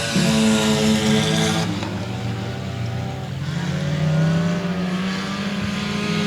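A dirt track race car runs down the front straightaway at 281 Speedway, its engine note loud and close, easing off early with a falling pitch before picking up again.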